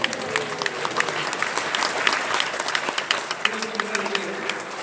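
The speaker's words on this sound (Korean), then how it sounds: "박수 치면서 아멘" A church congregation claps along during a sermon, a dense steady patter of many hands sustained throughout, with faint voices mixed in under the clapping.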